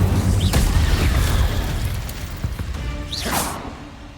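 In the Hogwarts Legacy video game, an Incendio fire spell is cast with a whooshing burst of flame. Two sharp swooshes ring out over a rumbling, continuous game background.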